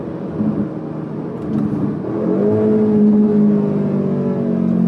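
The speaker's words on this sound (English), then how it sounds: "listen to the exhaust." A 213 kW Audi S3 8Y with a non-Akrapovic exhaust accelerates. A low exhaust drone builds in pitch and loudness, then holds a strong, rising tone heard up close, with no talking.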